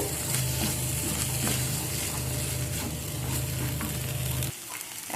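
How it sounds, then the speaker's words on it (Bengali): Green peas sauté with spices in a hot pan, giving a close, dense sizzle with scraping stirs throughout that drops away sharply near the end. "এখন এর মধ্যে আমি অ্যাড করে দেবো মটরশুঁটিগুলো, দিয়ে মশলার সাথে মটরশুঁটি ভালো করে কষিয়ে নেব।"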